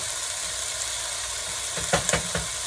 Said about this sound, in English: I want it to start frying.